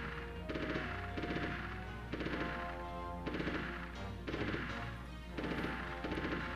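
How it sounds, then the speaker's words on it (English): Video game Wargames: Defcon 1 gunfire, bursts of rapid automatic shots repeating in regular clusters over a steady low hum, loud and without talk. "Someone's shooting"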